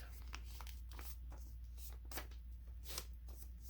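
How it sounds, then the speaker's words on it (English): A paper envelope for a hot cocoa pack is folded in half by hand, giving soft crinkles and a few sharper creasing crackles at close range with no talk. "you're just going to fold your envelope in half, like so"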